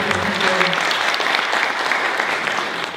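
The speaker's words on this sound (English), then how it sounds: "I'm going to ask everybody if you can applaud our two entrepreneurs here at the table." An audience at an opening night reception applauds two entrepreneurs, steady dense clapping filling the room throughout, close and loud with no pauses.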